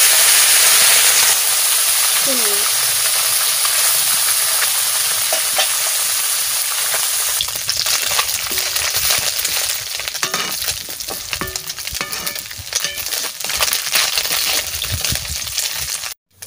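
Small chela fish fry in hot oil in a pan, giving a loud, steady sizzle and hiss that roars at first, then crackles and spatters unevenly.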